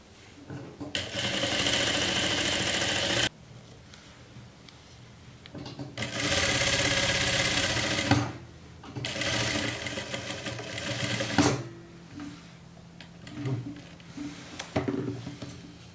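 A sewing machine stitches a jumpsuit in three long runs of steady, fast rattling whir with pauses between them, near and fairly loud, with soft speech in the gaps.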